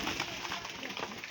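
Hungry pigeons left without food or water all day coo and murmur together in a dense, steady wash of soft calls against constant hiss, close and continuous with no speech.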